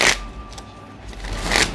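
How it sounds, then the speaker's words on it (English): A deck of tarot cards is shuffled and knocked: a sharp riffle and tap at the start, a short quieter stretch, then another crisp burst of shuffling near the end, up close, with no speech. "one shuffle and a good knock"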